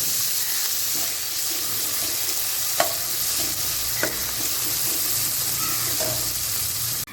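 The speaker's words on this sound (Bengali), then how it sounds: "সাইডে টমেটোটা ভাজা হয়ে যাবে" Tomato and onion fry in oil in a large wok, giving a steady, close sizzle throughout, broken by a few sharp clicks of stirring. There is no speech.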